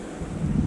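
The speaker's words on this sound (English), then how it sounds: "It's real windy." Wind at Camp Waterman Gap on the Skyline to Sea Trail buffets the microphone in a low, rumbling roar that swells slightly over a brief moment.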